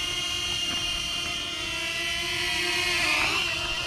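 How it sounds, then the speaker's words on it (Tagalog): A flying camera drone hovers outdoors, a steady high whine with tonal buzzing that stays fairly loud and constant, with no talk over it. "Look at the drone."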